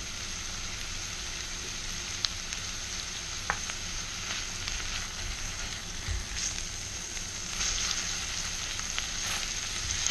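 Onions frying in butter in a pan: a steady, dense close sizzle and crackle running continuously, with a few faint clicks of stirring and no voices.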